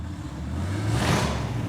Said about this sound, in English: I start hearing this really killer exhaust coming from outside the shop